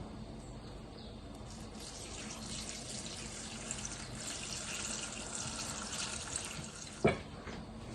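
Water poured from close by into a pot over green tomatoes being prepared for pickling, a soft continuous splashing fill that ends with a brief clunk, quiet throughout.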